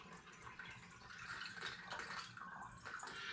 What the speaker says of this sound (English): Now I'm going to add my 1500ml of water.